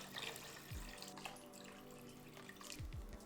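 A quiet stream of water pours and splashes briefly into a pot of rinsed ribs, close by and faint, with a few small drips.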